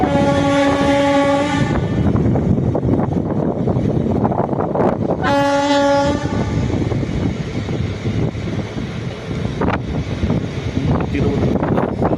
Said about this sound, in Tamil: மயிலாடுதுறை சேலம் அந்த அது வண்டி main line electrical multiple unit crossing இருக்கும்